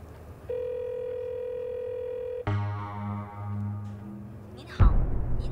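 Telephone call tones play: a steady beep for about two seconds, then a lower tone that wavers before a sharp click ends it.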